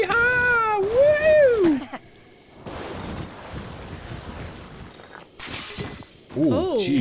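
An in-game cat meows in The Legend of Zelda: Breath of the Wild, with a drawn-out, wavering call near the start and another near the end, set against soft wind and water ambience and a brief sharp crash.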